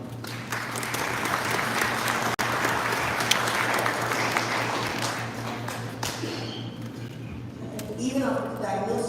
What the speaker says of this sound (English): And I would say a big round of applause for them.